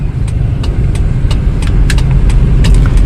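A Toyota Kijang LGX with a 2000 cc engine idles nearby, giving a loud, steady low rumble with faint ticking on top and no voices.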